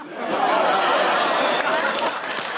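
A television panel show's studio audience reacts with a dense wash of murmuring and laughter that swells into a sustained, loud spread of applause-like clatter, brief and close.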